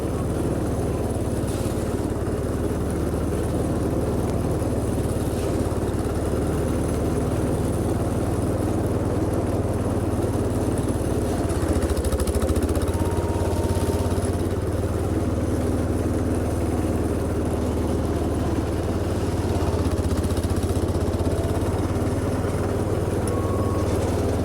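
A 1970 John Deere JD140 H3 garden tractor runs steadily while clearing snow on icy ground, its engine note a constant near, moderately loud drone that continues without a break.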